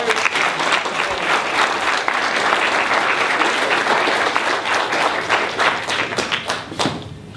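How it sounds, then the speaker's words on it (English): An audience at a gathering on police violence breaks into strong, sustained applause, dense and close for about seven seconds before thinning to a few scattered claps. "I want y'all to give a strong round of applause for our brother, Ward Churchill."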